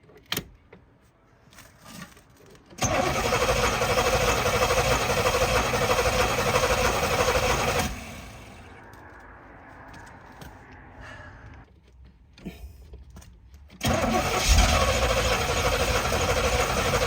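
A 1988 IROC-Z Camaro engine cranks without catching, its starter churning loudly and steadily for about five seconds, then a quieter pause before another loud cranking burst begins.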